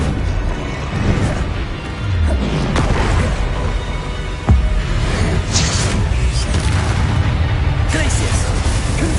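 Bombarda blasting spell explosions in the video game Hogwarts Legacy burst through dense, continuous combat noise, with one sharp, loud blast standing out midway and voices heard in the fray.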